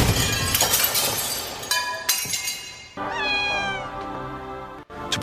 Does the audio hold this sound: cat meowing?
yes